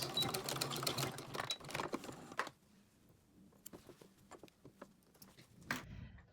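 A sewing machine backstitches the hem of a casserole hot pad, a quiet rapid patter of needle strokes that runs steadily for a couple of seconds, then breaks into short, sparse bursts.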